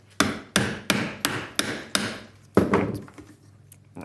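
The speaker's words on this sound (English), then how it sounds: "We're going to record a little bit of the caveman marble dropper here." Caveman marble dropper mechanism on a marble machine mockup, knocking out a steady run of six hollow wooden clacks, then one heavier thud followed by a rattling tail; close and fairly loud, with no voices.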